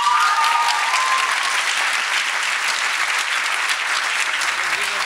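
Audience applauding a scholarship recipient at a 2023 student achievement gala, a dense, steady wash of many hands clapping that carries evenly for about five seconds, with a faint tonal sound near the start.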